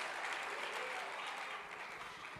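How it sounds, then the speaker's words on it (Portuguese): A church congregation claps together in a steady, even wash of applause, fairly faint and distant, with no pauses across the short stretch. "Pode aplaudir a Jesus."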